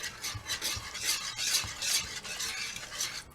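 Gravy for country fried steak is stirred in a pan with a series of close, rhythmic scraping swirls, each stroke a short rasping burst, with no voices.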